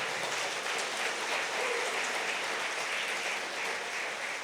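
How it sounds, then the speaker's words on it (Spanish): Applause from a church congregation after a sermon, a broad, continuous clatter of many hands at moderate distance, steady for the whole stretch with no talk over it. "Dele un aplauso al Señor por la palabra."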